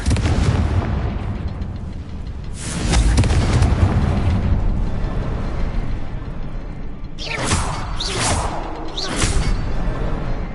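Confringo spell explosions in Hogwarts Legacy, a loud booming blast around two seconds in followed by a quick run of three sharp explosive bursts near the end, over a rumbling game background.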